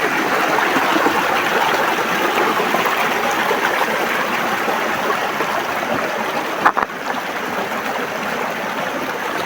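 A small forest stream flows steadily nearby, its broad rushing babble constant and fairly loud throughout, with one brief knock partway through.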